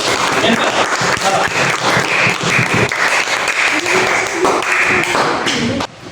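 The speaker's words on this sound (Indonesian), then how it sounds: "Beri tepuk tangan buat kelompok 1." A school class applauds a student group after its presentation: brisk, uneven clapping from many hands, close and lively, with some voices mixed in and a sharp drop-off near the end.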